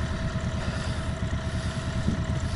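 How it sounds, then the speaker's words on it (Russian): Boat outboard motor idling steadily after being started on a reservoir at Konakovo, a low continuous rumble with a faint whine, moderately close, with no talk. "Мотор завел."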